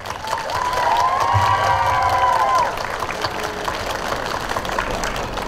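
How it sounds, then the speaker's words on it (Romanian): A crowd applauds and cheers in a large room at a Romanian middle school's end-of-year ceremony, a sustained wash of clapping with tonal whistles or voices rising above it, then settling into murmur. "Îi felicităm, îi aplaudăm."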